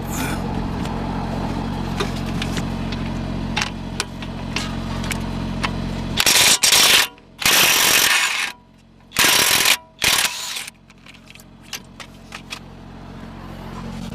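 Ratchet work on the caliper brackets of a 2013 Mercedes-Benz E350 during a brake rotor and pad job: several loud bursts of close mechanical clicking and clattering, separated by quieter garage background.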